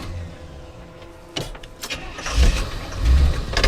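The engine of an old fuel-injected project truck cranks with uneven bursts, then catches and rumbles low and close, surging a couple of times as it comes to life.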